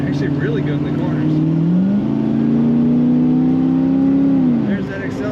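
A 1981 Chevrolet Camaro Z28 with T-tops accelerates, its engine droning loud and steady from inside the car, the pitch rising and holding before easing off near the end.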